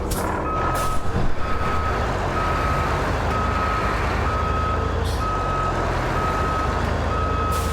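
Truck reversing beeps in the game RoadCraft: a loud, evenly spaced series of about nine steady beeps over a constant truck engine rumble, with a brief air-brake hiss near the start.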